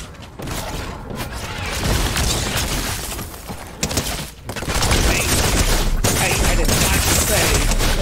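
Rapid revolver fire in a first-person shooter video game, loud and dense, with shots crackling almost continuously over a busy in-game soundscape and a brief lull near the middle.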